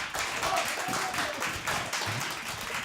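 An audience at a live French gala show gives an ovation, a dense crackle of clapping that lasts several seconds at moderate volume.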